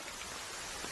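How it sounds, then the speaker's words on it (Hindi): Steady rain pouring down, a dense, even patter close by with no break and no voices. "बारिश रुक ही नहीं रही।"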